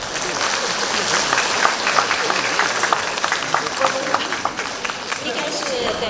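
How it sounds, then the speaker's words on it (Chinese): Audience applause at an award ceremony during an arts competition gala, a dense, steady clapping from a crowd that carries on throughout, with voices audible beneath it. "大家掌声鼓励一下"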